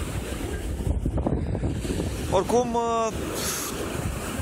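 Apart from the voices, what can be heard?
sea waves at Vama Veche beach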